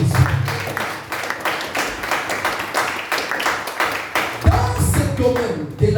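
A church congregation at a French-language service claps and applauds together, a dense run of rapid hand claps lasting several seconds with some voices mixed in.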